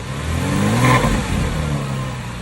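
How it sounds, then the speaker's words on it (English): Porsche 911 996 C4S flat-six idles with a metallic, rattly, almost diesel-like clatter, close and steady, with a slight swell in revs midway and no talk. "the flat 6 in the 911, it's just a really rattly engine"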